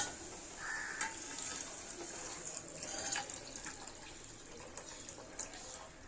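Tamarind water pouring and splashing into a hot frying pan for sardine curry, with a hissing sizzle throughout and a few clinks, close by.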